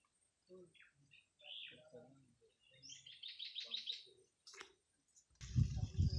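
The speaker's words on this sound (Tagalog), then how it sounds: "huni ng mga ibon." Several birds chirp and sing in short, faint calls in a countryside setting near a hut, with a few brief bursts spread across the stretch and a louder rustling noise at the end.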